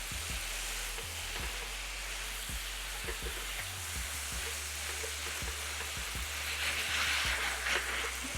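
Steak bites fry in butter in a hot pan with a steady, dense sizzle, broken by occasional low clunks and scrapes as the pieces are stirred and moved around.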